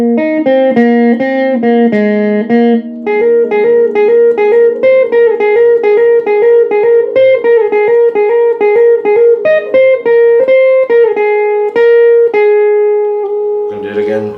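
A riff is picked on an electric guitar, with a clear, close, evenly rhythmic line of single notes and chords ringing together, ending on a sustained note cut off by a short scrape.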